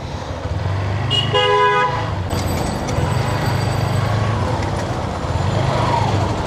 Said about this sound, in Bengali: হংকিং করতে ইচ্ছে করে না, কারণ হর্ন যে কতটা বিরক্তিকর জিনিসটা আমি বুঝি